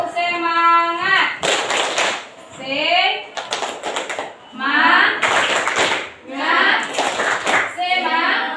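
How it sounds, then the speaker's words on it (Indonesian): Rhythmic group hand clapping, a classroom 'tepuk semangat' spirit clap, in bursts between lively children's chanting and a teacher's voice; loud, close and patterned. "Jadi caranya seperti ini, kamu bertepuk 2 kali ya. Tepuk semangat."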